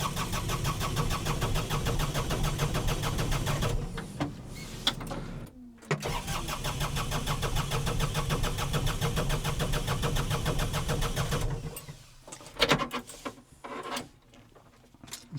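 A Kioti CS2530 compact tractor diesel engine cranks and runs with a steady loud rumble for several seconds, cuts briefly, then catches again and settles before dropping off into clunks and knocks nearby.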